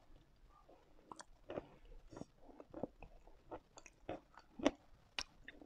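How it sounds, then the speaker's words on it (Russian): Chalk is chewed as a snack in close, quiet detail, giving a dozen or so sharp crunches and bites in an irregular rhythm. "Мелы я всегда ем на закуску."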